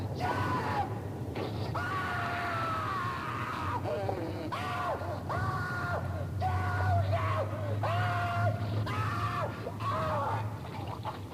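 A man screams and yells over and over from a Halloween sound effects tape, with repeated drawn-out cries over a steady low droning background, continuous and moderately loud.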